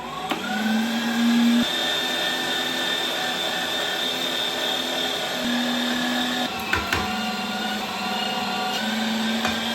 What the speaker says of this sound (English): We did our first pass through the grinder.